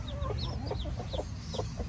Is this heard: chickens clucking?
yes